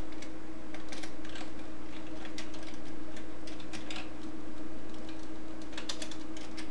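Keys tapped on a computer keyboard in quick irregular bursts while entering code, moderately close, over a steady low electrical hum, with no voices.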